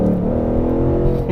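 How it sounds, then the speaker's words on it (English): A 2021 Ford Mustang GT V8 engine growls loudly and steadily up close, a deep rumbling drone held for a moment. "You're gonna get that growl, you're gonna get that loud, beefy noise out of that engine."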